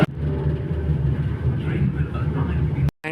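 A metro train pulls into a station as a steady, fairly loud rumble with low humming tones, continuing for about three seconds before cutting off abruptly near the end.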